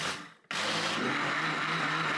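A kitchen blender switches on and runs steadily, beating sugar with boiling water and vanilla into a smooth, continuous whirring drone after a brief quiet moment.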